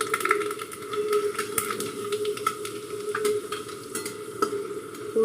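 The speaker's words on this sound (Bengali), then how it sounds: "আমি এখন একটু কালো জিরার মেথি ফোড়ন দিচ্ছি" Black cumin and fenugreek seeds sizzle in hot oil for a red amaranth (lal shak) dish, a dense constant crackle with sharp pops and spatters scattered throughout, close and fairly loud, with no voices.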